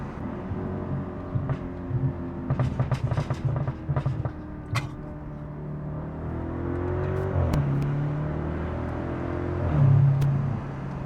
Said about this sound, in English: I'm just feathering the throttle. All the pops and cracks are all natural.